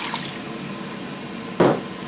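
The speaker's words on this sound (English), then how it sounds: "I'm going to add some water to this." Hot water poured into a cast iron pot of gumbo, a quiet liquid wash with a brief louder splash near the end.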